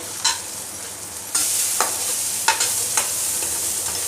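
Potatoes and roasted peanuts stirred together in a pan while making Maharashtrian kanda poha, with a steady sizzle broken by several sharp spatula scrapes spaced about a second apart, close and fairly loud.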